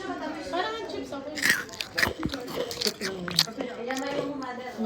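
Crunchy chips being bitten and chewed close to the mouth, with several sharp crunches and wet chewing sounds mixed under continuous talking.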